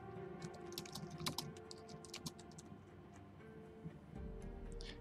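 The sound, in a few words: typing on a computer keyboard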